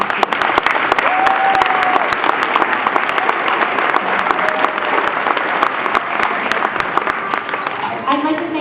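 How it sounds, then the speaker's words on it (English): An audience at a second-grade school music concert applauds steadily and fairly close, a dense wash of clapping with some crowd murmur throughout. "Can we have a round of applause for those teachers?"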